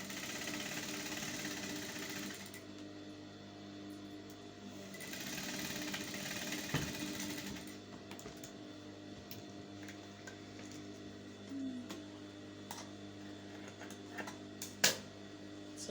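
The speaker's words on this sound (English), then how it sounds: "I'm just going to go ahead and sew it carefully" A sewing machine stitches the pocket area of an off-shoulder dress, running in two short bursts near the start, then falling to a faint hum broken by small clicks and a sharp knock near the end.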